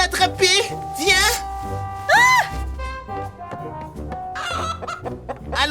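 A loose chicken clucks in loud, repeated bursts close by, mixed with busy background noise and people talking.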